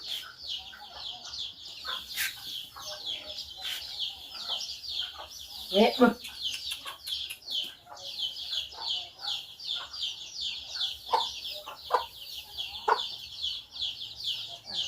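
Chickens being fed, clucking and pecking close by with scattered calls and a louder squawk midway, while people talk over them.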